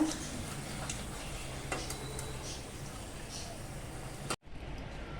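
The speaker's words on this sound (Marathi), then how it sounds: "आता ह्या पण भज्या आहेत ना तळून झालेल्या आहेत त्या आता आपण काढून घेऊया" Batata bhaji, potato fritters, being lifted out of hot frying oil: a steady low sizzle and bubbling with light scraping and stirring against the pan, continuous and fairly close, then a sudden cut to near silence at the end.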